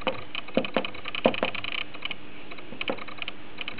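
Keys tapped on an Arduino home automation keypad while a password is entered: a quick run of sharp clicks in the first two seconds, then a few sparse presses, close up and alone with no talk.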